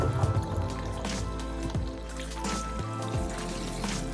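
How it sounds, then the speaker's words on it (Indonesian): Freshly boiled eggs are rinsed under running tap water, giving a soft continuous splashing and trickling with small wet squishes, fairly quiet and close. "Setelah itu langsung angkat telurnya dan langsung aku siram di air mengalir"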